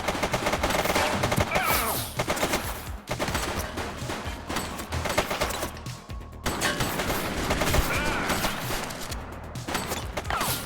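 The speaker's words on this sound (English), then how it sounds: "Shots fired!" Sustained gunfire from a police shootout in the video game The Precinct, with rapid bursts and volleys of shots continuing loudly throughout with only brief gaps.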